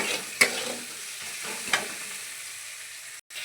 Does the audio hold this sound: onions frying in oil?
yes